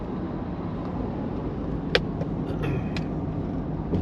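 A car crosses the North Fork of the John Day River in Eastern Oregon, its engine and tires holding a steady, close road rumble, broken by a couple of faint clicks.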